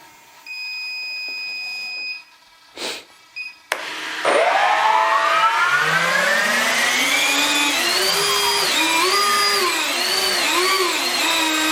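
Model VTOL jet engines on an SU-X vertical-takeoff aircraft spool up after a few beeps and clicks, rising into a loud, whining turbine roar whose pitch wavers up and down as the jet balances itself.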